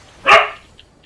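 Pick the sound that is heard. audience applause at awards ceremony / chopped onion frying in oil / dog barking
dog barking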